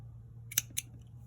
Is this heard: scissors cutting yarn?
yes